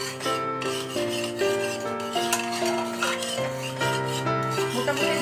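A utensil stirs and scrapes sugar into hot oil in a pan for a Bengali chicken curry, a repeated rubbing, grating scrape against the pan in uneven strokes, close and fairly loud with no speech.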